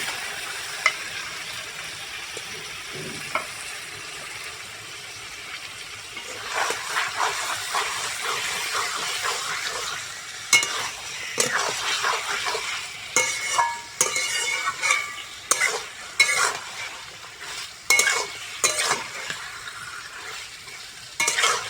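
Chicken hits a hot pan of ginger-garlic masala for pulao, and a loud hissing sizzle erupts. Repeated scraping stir strokes follow in an uneven rhythm, all close up and with no talking.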